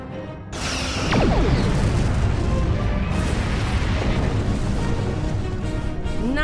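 Starship weapons fire and explosions in the space combat game Star Trek Online, a dense, continuous barrage of booming blasts and bursts with sweeping tonal zaps, loud and sustained with no talk.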